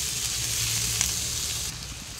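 Ingredients for a dried-fish curry sizzle steadily in a hot pan, a close, even hiss with a soft stirring scrape.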